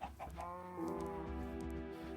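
Minecraft chickens cluck in a game, giving a close, steady run of short repeated clucks with a sustained tonal call over a low background.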